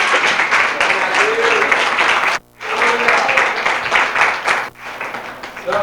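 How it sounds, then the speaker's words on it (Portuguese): Church congregation applauding during a Portuguese-language worship service, a dense, loud wash of clapping that breaks off briefly twice, with voices mixed in. "Você pode aplaudir o Senhor por esta palavra?"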